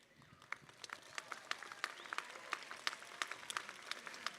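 Faint, scattered applause from a commencement audience at the University of South Carolina Upstate spring ceremony, with distinct individual claps ringing out against a quiet, distant room.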